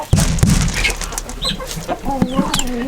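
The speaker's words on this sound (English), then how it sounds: "These chickens love when I spilled the feed." Chickens cluck over spilled feed on a farm, a flock of short, close clucks and squawks bursting in irregular clusters, with one louder call near the start and a few higher cries toward the end.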